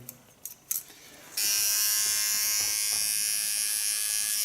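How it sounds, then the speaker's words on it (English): A small electric hair clipper starts up after a few brief handling clicks and then buzzes steadily and close, a bright constant hum as it trims hair and sharpens a side line behind the ear. "Correct it with my small clipper"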